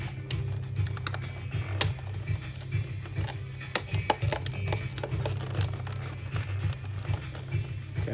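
Sharp clicking and scraping of a blade cutting through plastic toy packaging, with irregular ticks and crinkles over a steady low hum, close up.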